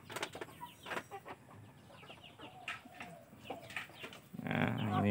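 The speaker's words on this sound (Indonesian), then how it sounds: "ini pejantan kita." Aseel Parrot cross chickens clucking in a pen, a rooster among them, with repeated close clucks and calls, then a louder burst of flock noise at the end.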